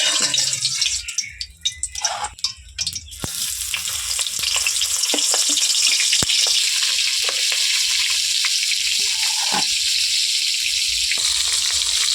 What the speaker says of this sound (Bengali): মাছ ভাজার জন্য তেলটা দিয়ে দিই